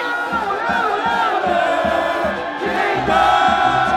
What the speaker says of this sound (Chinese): 唱欧雷吧，欧雷。